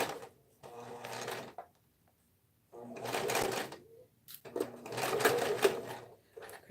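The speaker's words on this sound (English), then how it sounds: "now that I'm top stitching, taking care of that all in one step" A sewing machine top stitching a tote bag runs in three close, steady bursts of rapid mechanical chatter, separated by brief pauses.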